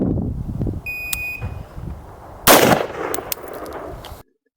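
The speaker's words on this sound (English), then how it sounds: "It's taking a headshot at 25 meters with the timer." A stock M4 rifle with iron sights fires several loud, sharp shots in close succession after an electronic shot-timer beep, aimed at a 25-meter headshot target on an outdoor range.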